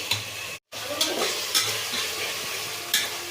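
Tomato fries in hot oil in a pan, a close, steady sizzle with a few sharp stirring scrapes spaced through it and a brief dropout near the start, no talk.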